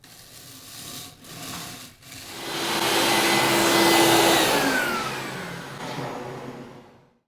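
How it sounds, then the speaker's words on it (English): A record cleaning machine's loud vacuum motor whooshes and rises to a steady roar, with a faint rubbing scrape as it vacuums distilled water off a vinyl record, then winds down. No voices. "we're going to apply some distilled water and then vacuum it once more."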